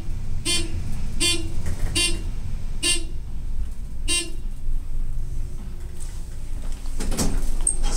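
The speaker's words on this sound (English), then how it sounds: "One of the most buzzy elevators I've ridden, I would say." A Dover traction low-rise elevator at the Rio Masquerade Tower in Las Vegas runs with a steady low buzz and hum, overlaid by five evenly spaced sharp beeping tones and a later clunk as the car moves.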